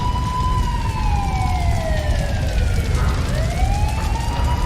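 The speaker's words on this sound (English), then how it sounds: "The wail of sirens was oppressive, corkscrewing sharply into the center of my skull." Emergency sirens wail loud and close, with one tone sliding down and then rising again, and no voices over them.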